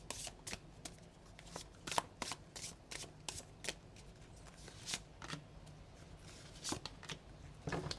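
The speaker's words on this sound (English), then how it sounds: "your energy is being shuffled with these cards." A deck of cards is shuffled close up, with a long run of quick, crisp riffling snaps at an uneven rhythm and no talk.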